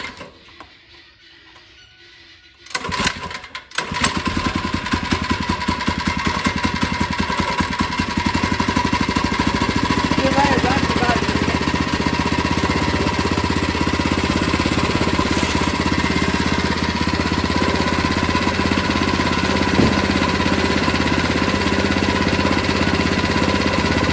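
Predator 79cc mini bike engine started and left idling, a loud steady rapid mechanical chatter close by after a quiet moment and starting clatter.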